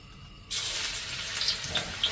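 Garlic drops into hot oil in a pan and bursts into a sudden, steady sizzle that carries on with small crackles after a quiet start.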